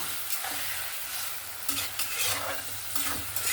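Mustard paste being stirred into a sizzling katla fish curry with raw mango powder, a steady fry hiss broken by several scraping stirs of the spoon across the pan, with no talking.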